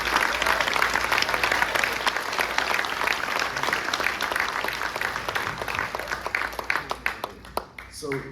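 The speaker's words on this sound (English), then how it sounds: "let's just give it a round of applause for this band." Audience applauding a band, a dense sustained wave of clapping from a crowd that gradually thins into scattered claps near the end.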